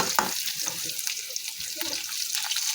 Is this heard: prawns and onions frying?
yes